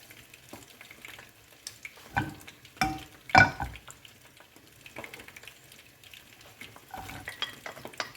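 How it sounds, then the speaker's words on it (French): Onion and bell pepper go into a saucepan over high heat with oil that is not yet fully hot. The result is a faint sizzle, a few loud clattering scrapes and knocks in the middle, then quieter stirring. "versez-y l'oignon, le poivron, ajouter la sauce de cuisson"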